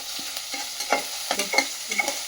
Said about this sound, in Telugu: ఆవాలు జీలకర్రతో పాటు ఉల్లిపాయలు వేగాలండి